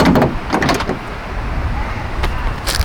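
Tesla Model 3 door being closed, several close sharp thumps and clicks over a steady background hum.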